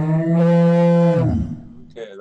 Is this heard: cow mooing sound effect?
yes